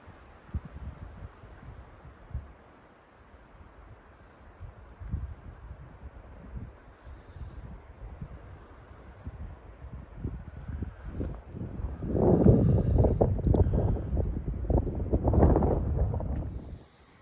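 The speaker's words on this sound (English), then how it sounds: "The wind is definitely starting to pick up." Wind picks up outside a snowy mountain cabin, a steady low rushing that swells into louder, gusty buffeting in the last few seconds.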